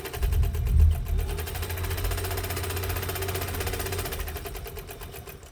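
Westinghouse model UHB sewing machine with a new rubber tire drive running on its foot pedal, a fairly quiet steady motor hum with a fast rhythmic needle patter, slightly louder at the start before settling and stopping near the end.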